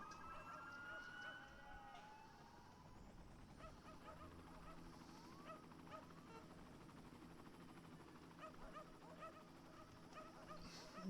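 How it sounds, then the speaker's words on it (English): In Cities Skylines, dogs bark and whimper as search and rescue sirens wail after a disaster in a populated area. The sounds are faint and distant, with rising and falling siren tones layered over scattered barking. "You hear the dogs and the search and rescue people."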